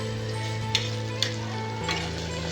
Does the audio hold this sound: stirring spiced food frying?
yes